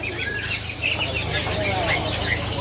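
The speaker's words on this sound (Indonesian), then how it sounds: "Burung mantenan namanya nih." Small mantenan birds chirp and tweet in short, high bursts at a busy bird market, over a steady low hum and background chatter.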